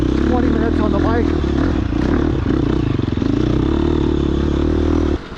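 A 2022 Husqvarna FX 350 four-stroke dirt bike engine runs loudly and steadily close by, with clattering mechanical noise over the drone, then cuts off abruptly near the end.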